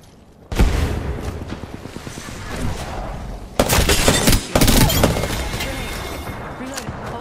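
A grenade blast in a Halo game slams in among sharp gunfire, with loud, abrupt bursts near the middle and a crackling tail, while a voice talks briefly over the combat.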